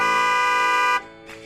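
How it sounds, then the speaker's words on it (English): A car horn blares in one long, loud, steady honk lasting about a second, then stops, leaving faint background sound. "This is a car."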